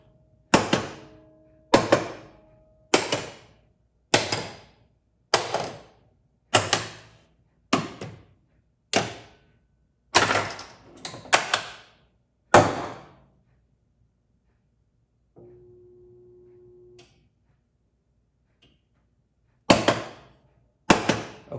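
Solenoids firing one after another in a 1986 Bally Strange Science pinball machine during its self-test: loud, sharp mechanical thunks in a steady rhythm, a brief buzzing hum, then a few more clacks with silence between.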